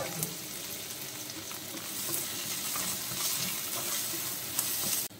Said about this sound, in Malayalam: നമുക്കിതിലേക്ക് അരിഞ്ഞ് വെച്ചിട്ടുള്ള സവാള ഇട്ട് കൊടുക്കാം